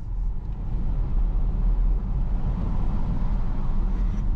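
Volvo XC40 electric SUV driving hard on a mountain road in Gunma, with a steady, loud low road and tire rumble that swells and holds as the car accelerates and brakes.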